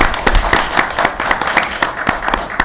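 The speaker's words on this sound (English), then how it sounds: "someone who would be upset if you didn't clap as loud for her as you did for Ms. O'Brien and Ms. Sullivan" A school committee meeting audience claps for a staff member, steady, dense applause from a room full of people, fairly loud and continuous throughout.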